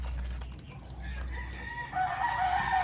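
A bred gamefowl rooster crows in the distance in Mindanao, with a low outdoor rumble underneath and a higher, strained call rising near the end.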